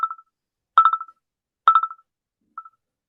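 Bursts of telephone keypad dialing tones, clean and close, in four separated groups of quick beeps with silence between them, setting up calls to a live call-in podcast show.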